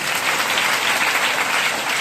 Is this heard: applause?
yes